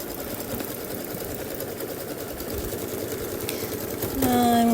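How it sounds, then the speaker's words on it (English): An embroidery sewing machine stitches a needle book in the hoop with Kimberbell background quilting, giving a steady, close mechanical whirr that builds slightly louder toward the end with a whining tone. "so let the machine sew"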